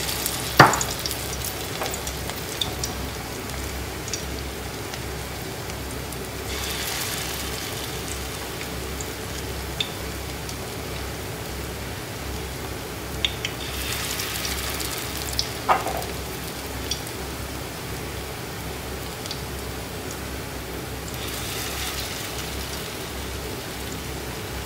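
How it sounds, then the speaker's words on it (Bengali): Cabbage pakoras sizzle steadily in hot oil, a dense crackling hiss that runs continuously with occasional sharper pops and brief clinks of a utensil, no voices present. "এবার আমি বাঁধাকপির পকোড়াগুলো তেলের মধ্যে ছেড়ে দেব"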